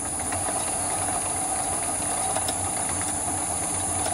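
A lathe motor fitted with an electronic lead screw runs at reduced speed, a steady mechanical hum with a constant high whine and faint ticking, close and unbroken throughout.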